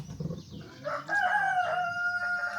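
A rooster crows once, loud and close, a long drawn-out call rising after a few soft clucks and rustles, with no one speaking.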